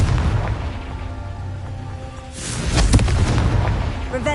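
Confringo fire-blast spell in Hogwarts Legacy, a low rumbling boom bursting out midway after a steady hum, followed by crackling debris and rolling blast noise.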